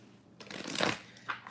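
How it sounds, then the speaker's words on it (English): Tarot cards being shuffled close up, a soft riffling flutter that swells and fades within a second or so, followed by a brief extra flick, with no talking. "I'm just going to go ahead and shuffle the cards"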